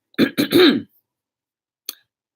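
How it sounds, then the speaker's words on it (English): A quick burst of harsh, throaty coughs, three close together and loud, followed by silence and one small final cough. "Just hearing somebody cough so loudly."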